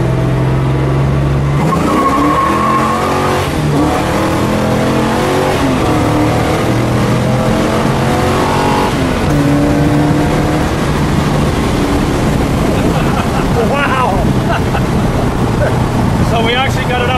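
A 1969 AMC Hurst SC/Rambler revs hard through the gears up to its 6,000 RPM rev limiter in third, the loud engine roar rising and dropping continuously from inside the car.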